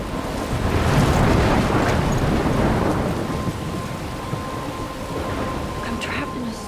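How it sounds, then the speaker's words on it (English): A thunderstorm rumbles in Life is Strange, a heavy low roll of thunder swelling early and fading into steady rain and wind noise. "I'm trapped in a storm?"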